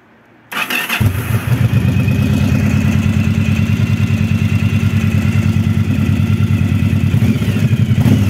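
After a moment of quiet, a Yamaha DragStar XVS 1100 motorcycle engine starts and settles into a loud, steady, throbbing idle with an even, rapid pulse that continues to the end.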